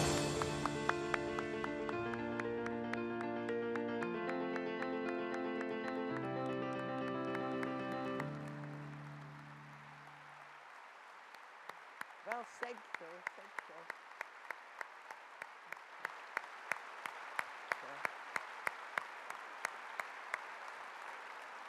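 Audience applause greets a guest speaker, a Holocaust survivor, at an evening talk before a large crowd; music plays at first, then steady clapping swells and continues for several seconds.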